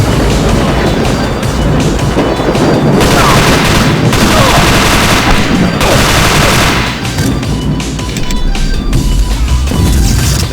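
Gunfire erupts in the Deus Ex video game: loud, close bursts of rapid shots that come in dense volleys with short lulls between them.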